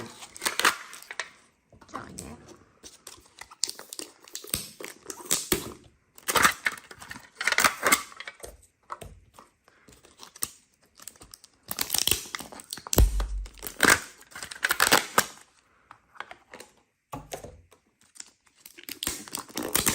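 Plastic wrappers of Danone Süprix surprise packets are torn and crinkled open in irregular bursts of sharp crackling, with quieter gaps and occasional talk in between.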